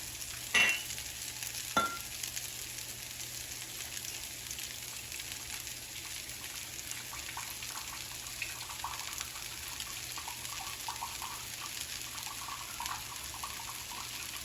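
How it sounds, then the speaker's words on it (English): Soft, steady sizzle of noodles frying in butter and garlic as soy sauce is added, with a couple of brief clinks near the start, then a quiet continuous crackle throughout. "once the noodles are coated with butter and garlic, we're going to add the sauce"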